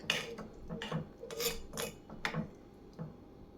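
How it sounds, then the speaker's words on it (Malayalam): A spoon stirs Olan, a Kerala curry, in a pot just after coconut milk has gone in, making several close scraping rasps against the pan in an uneven rhythm, fairly quiet. "നമുക്കിതൊന്ന് ഇളക്കി മിക്സ് ചെയ്യാം"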